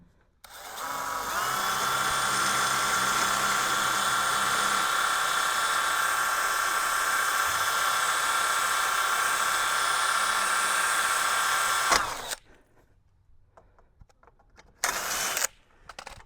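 A power drill whirs steadily at high pitch for about eleven seconds while installing a vinyl gate outdoors in wind, then cuts off, leaving quiet background rustles and a brief later burst.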